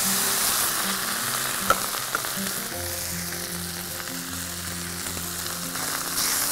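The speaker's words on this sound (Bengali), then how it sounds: "আমি এখন এই রাইসটাকে ঢেলে দিব।" Rice is poured into a pan of frying nuts for pilau and settles into a steady, dense sizzle, close and even throughout, with a couple of faint clinks.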